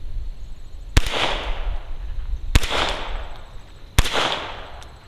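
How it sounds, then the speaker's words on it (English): Three sharp gunshots through a Rebel Silencers SOS 22 suppressor, spaced about a second and a half apart, each a crisp crack followed by a short fading ring, with quiet gaps between. "let's take a couple shots here, see what this thing sounds like."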